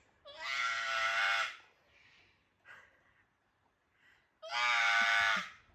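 On an Australian farm, a person screams to imitate a bleating, goat-like animal, with two long, loud, harsh cries and a few quieter snorts and sounds in between.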